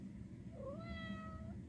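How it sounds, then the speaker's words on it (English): A house cat gives a single drawn-out meow with a rising pitch, quiet and close, over a steady background hum. "My cat's meowing"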